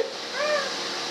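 A young child imitates a cat's meow: a single short, nasal, rising-then-falling vocal mew, close and clear against a quiet room.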